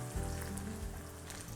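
Dried red chillies, mustard seeds and fenugreek sizzle and crackle steadily in hot oil, a close, continuous frying hiss with no voices.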